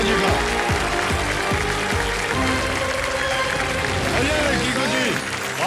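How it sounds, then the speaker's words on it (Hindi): A studio audience applauds to welcome comedian Kiku Sharda onto a TV quiz show set: dense, steady clapping and crowd noise that fills the whole stretch, with a voice talking over it. "एक बार फिर तालियों के साथ अभिनंदन किया जाए देसी अंदाज वाले ग्लोबली मशहूर कॉमेडियन पीकू शारदा जी का"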